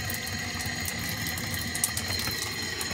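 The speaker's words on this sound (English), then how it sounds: "And there's water flowing there." Water rushing through newly installed PEX plumbing line in an off-grid tiny house, a steady hissing flow with faint mechanical rattles, close and continuous.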